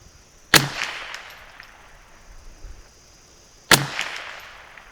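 Two sharp gunshots from a .22 LR rifle fitted with a night vision scope crack out about three seconds apart at a shooting range, each loud report followed by a brief fading echo, with no talking.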